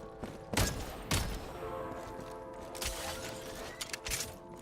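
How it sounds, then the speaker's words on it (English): Shots fired at explosives in Genshin Impact, with a couple of sharp, loud bursts early and smaller cracks later over a steady game background hum. "Shoot the explosives to detonate them and clear the path."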